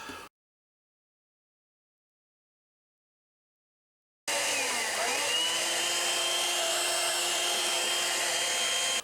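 A Shark Freestyle cordless stick vacuum (SV1106) switches on after near silence and runs with a steady, loud whirring drone close by, its pitch dipping briefly as it spins up and then holding steady.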